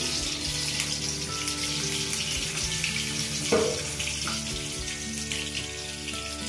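Boiled potatoes fry in hot oil with a steady, dense sizzle that stays even throughout, with one brief clunk midway and no talk.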